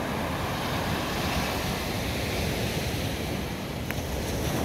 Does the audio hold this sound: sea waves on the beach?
yes